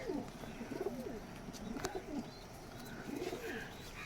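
Soft, low coos from a Rampuri and Kamagar cross pigeon repeat in short rolling phrases, faint and fairly close, with a few other birds cooing quietly around it.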